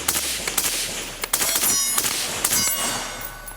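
Shots from a suppressed AR-15 rifle chambered in 5.56 at an outdoor range, several sharp, loud reports in quick irregular succession followed by ringing clanks and a lingering metallic tail.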